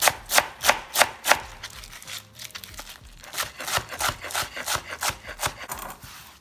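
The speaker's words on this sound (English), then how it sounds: "Slice it thin." A sharp knife slices thin ribbons of kale on a wooden cutting board, a quick steady run of crisp, close chopping strokes with a brief pause midway.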